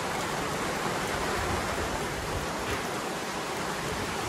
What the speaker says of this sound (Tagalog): Inabot kami ng ulan mga kabayan.